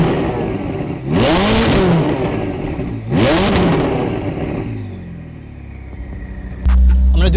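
Ferrari 488 Spider fitted with a Novitec exhaust starts up and revs hard twice, each blip rising and falling as a loud close snarl, then settles to a lower idle burble, and a deep thump sounds near the end.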